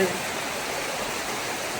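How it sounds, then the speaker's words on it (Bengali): Steady morning rain pours down continuously, a dense broadband hiss of drops that stays loud and even throughout with no pauses. "এই যে চলছে বৃষ্টি, কেমন বৃষ্টি দেখেন"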